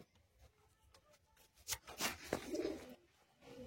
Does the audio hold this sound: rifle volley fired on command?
no